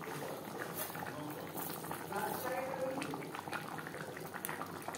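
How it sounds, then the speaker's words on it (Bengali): Potatoes simmer in a pot, making a quiet, steady bubbling boil with soft liquid gurgles that continue without a break. "3-4 মিনিট আলু বেশ ভালো করে ফুটিয়ে নেব"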